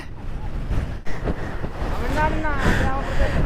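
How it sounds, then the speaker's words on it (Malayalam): Strong wind at misty Kallippara rumbles and buffets against the microphone in a constant roar, while people talk faintly beneath it. "എന്ത് കാറ്റല്ലേ"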